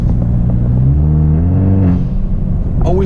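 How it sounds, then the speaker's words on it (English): A turbocharged Elantra 1.6T fitted with a Sxth Element AV6 blow-off valve rumbles loudly up close as the engine revs climb, then a quick burst of valve release follows near the end. "Loving the blow-off valve."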